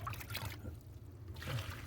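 Water seeping and trickling into a dug foundation hole, a close, uneven wet dribble with a low rumble underneath, easing briefly in the middle before picking up again.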